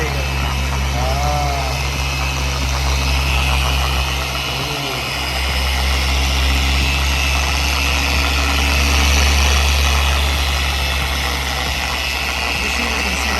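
A Shinemate 620 5/15 dual action polisher runs on car paint with a steady electric motor drone and whine, its pitch wavering slightly under pressure while people talk over it.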